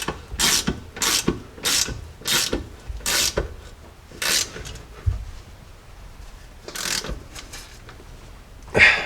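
A ratchet tightening the rear shock bolts on a Jeep Cherokee XJ, clicking in a series of about ten short, sharp bursts up close, with pauses between strokes and no voices.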